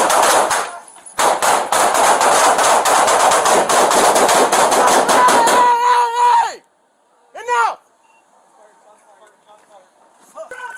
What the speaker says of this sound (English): A fierce shootout ensued inside the store, with the suspect firing 13 shots and officers returning 45 shots to end the threat.